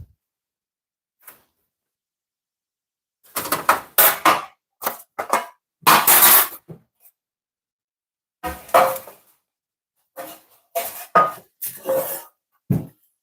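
Onion and garlic being chopped on a kitchen board for bolognese, a run of sharp close knife strikes in separate bursts with short pauses between them, and no talking.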